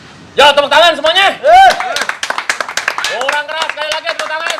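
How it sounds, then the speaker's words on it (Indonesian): Patrons at Sinkron Cafe in Ciputat clap in crisp, rapid bursts while voices shout and sing loudly over the clapping close by. "Ya, tepuk tangan semuanya."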